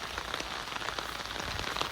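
Steady rain falling on a hobby farm with swales, a continuous even patter of drops on surfaces close by, with no voices.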